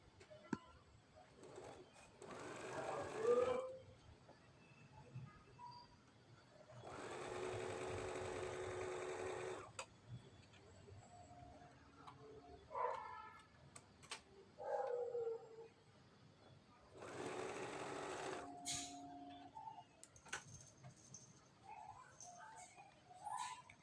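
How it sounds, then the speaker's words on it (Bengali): A sewing machine stitches fabric strips for a patchwork pillow cover made from scrap fabric, running in three separate bursts of a few seconds each, with soft handling noises and faint bird-like sounds in the quiet gaps. "আবার সাদা স্টিপ নিয়ে সেলাই করছে, এভাবে চারদিকটা সেলাই করে নেব।"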